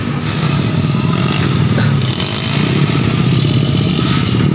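A two-stroke underbone motorcycle engine revs hard at a local race event, a loud continuous buzzing drone with rising and falling pitch that fills the whole stretch, with no talk over it.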